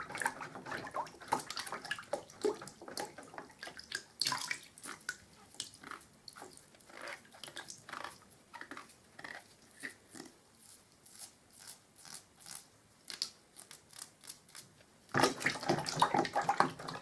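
Hamilton Prestige pure bristle paint brush rubbed and drawn back through rinse water, giving wet swishing and dripping strokes in an irregular rhythm, close and fairly quiet, growing busier and louder toward the end.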